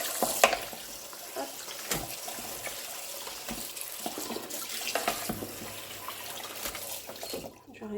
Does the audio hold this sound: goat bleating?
no